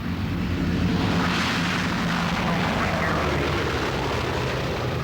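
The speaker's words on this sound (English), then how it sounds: "the Boeing B-17 Flying Fortress trying to make it back in, trailing smoke" A Boeing B-17 Flying Fortress comes in to land at a flying-circus airshow, trailing smoke with only one landing gear down; its engines give a loud, steady, close roar that fills the whole clip.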